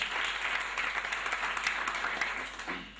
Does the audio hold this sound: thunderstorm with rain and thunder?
no